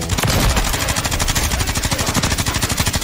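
Rapid sustained bursts of LMG machine gun fire from a Call of Duty video game, dense, loud and continuous with fast regular rhythm, no talk over it.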